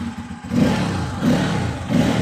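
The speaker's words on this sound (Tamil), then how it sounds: "கியரை ரிமூவ் பண்ணிவிட்டு இப்போ நான் ஒரு த்ராட்டில் பண்ணுறேன் பாருங்கள்" A Bajaj Pulsar N250 motorcycle engine revving in neutral, close and moderately loud, with three short throttle blips rising over a low idle.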